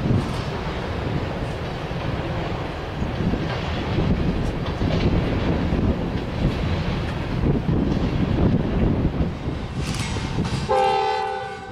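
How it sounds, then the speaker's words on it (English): A lone CP locomotive leads an ethanol freight train through Fostoria, a steady loud rumble of rolling cars with wind buffeting the microphone and a sustained horn blast near the end. "A solo CP leader leads a Ethanol train through Fostoria."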